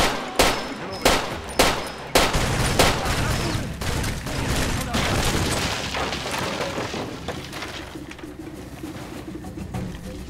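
Gunfire in the video game Far Cry 2: a string of loud, sharp shots in the opening seconds, then a dense rumbling burst that slowly fades, with game noise filling the background.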